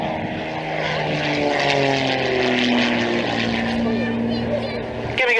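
A B-17 Flying Fortress propeller aircraft passes at an air show, its steady droning engines holding strong tones that slowly shift in pitch through the pass, loud and continuous with a brief rise at the end.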